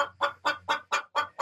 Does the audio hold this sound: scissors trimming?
no